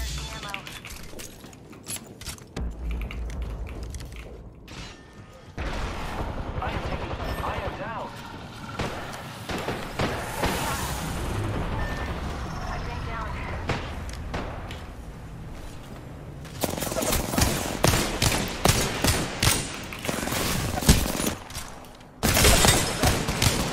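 Rapid bursts of video game gunfire and thumping impacts crackle through a busy shooter match, with repeated volleys growing denser and louder toward the end while a player talks over the action.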